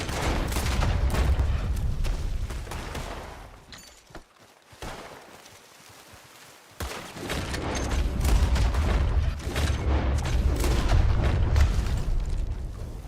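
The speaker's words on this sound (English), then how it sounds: "I'm taking bullets like crazy here" Gunfire strikes the player in Red Dead Redemption 2, heard as loud, dense volleys of shots and booms that drop away briefly in the middle before returning in force.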